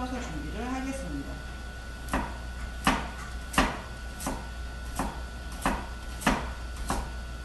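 A knife chops carrots into thin strips on a cutting board while a Korean dish is prepared, giving about eight evenly spaced, crisp knocks. A voice is heard briefly before the first stroke.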